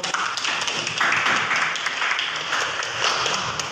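Applause from a classroom audience at a school lesson on cooperatives, a dense run of many hands clapping that holds steady for several seconds, fairly close and with no talk over it.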